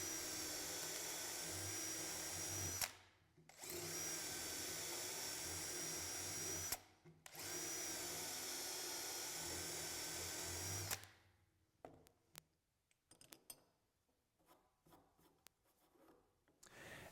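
A drill cutting a mortise for a BeadLock loose tenon in wood, three long loud whirring runs separated by brief pauses, followed by quieter scraping and handling noises.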